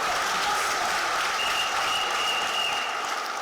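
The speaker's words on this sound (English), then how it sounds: "I think they deserve a better clap than we are doing." Sustained applause from a large audience at a political party gathering during an economic address, dense and steady at close range for the whole stretch with no talk over it.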